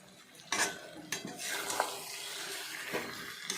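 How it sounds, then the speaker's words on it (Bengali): Rita fish are stirred in a cooking pan, with a few sharp metallic scrapes and clinks of a spatula against the pan over a soft sizzle, close and fairly quiet. "ভালো করে নাড়াচাড়া করলাম"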